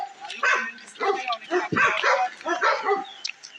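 A dog gives a few short barks and yips amid nearby people talking, during a group bicycle ride-out in Jamaica.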